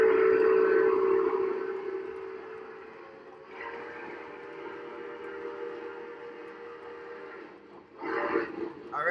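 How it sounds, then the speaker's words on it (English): A model train's steam whistle blows one long sustained tone, loud and steady at first, then easing lower and fading slightly before a brief noisy swell at the end. "blow the whistle really long"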